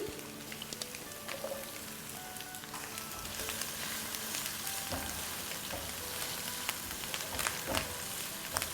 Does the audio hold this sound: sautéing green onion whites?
yes